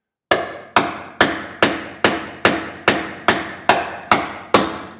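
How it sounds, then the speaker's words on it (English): Eleven sharp metallic hammer blows striking a bearing driver to seat a bearing race while installing an ARB locker in a Land Rover Defender, evenly spaced and close, each ringing with a bright ping that decays quickly. "When you hit the bottom of this thing, when you bottom out, you'll hear a distinct ping."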